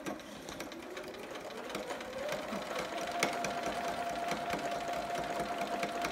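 A sewing machine stitching backward on a romper hums steadily at close range, its motor pitch climbing and then holding a constant whir, with faint clicks over the running drone.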